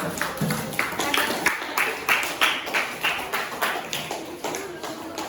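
A classroom of schoolchildren claps together after a student group presents, a steady patter of many small hands at close range, with a voice speaking over it.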